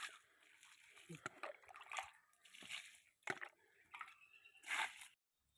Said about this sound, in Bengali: এক বালতি জল এনেছি, সব গাছগুলো অল্প অল্প করে দিয়ে দেবো